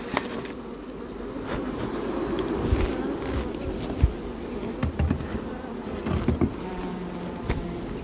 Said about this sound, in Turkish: ana içeride sürekli arılar kanat çırpıyor ana kokusunu dağıtmak için